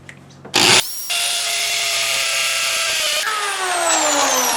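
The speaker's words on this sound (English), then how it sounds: "it's a quality drill, but it's made to kill your ears." A loud power drill whines at high pitch, starting with a short burst, then running continuously and shifting pitch as it strains, close and harsh.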